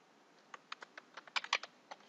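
Keys on a computer keyboard tapped in an irregular burst of soft, close clicks, a quick cluster in the middle, set against a quiet room.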